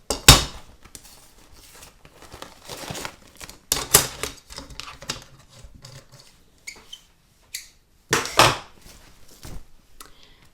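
Fabric is pulled from a machine embroidery hoop, with stabilizer crinkling and snapping in sharp, irregular bursts separated by short quiet gaps, close and fairly loud.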